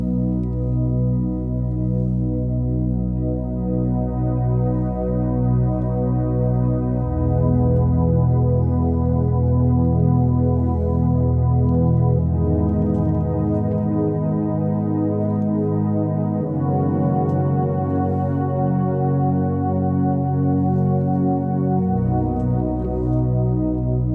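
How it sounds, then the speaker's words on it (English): Soft, warm synth pad chords on a Nord keyboard swell and sustain, shifting between chords in long, smooth held tones with no talking over them. "you need to find a pad that isn't too distracting, isn't too aggressive, it's soft and warm"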